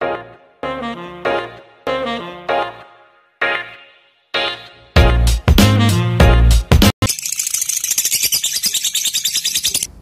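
A lovebird chirps in short repeated bursts of bright, close tweets with brief gaps between them, ending in a fast continuous trill, loud and alone with no voices.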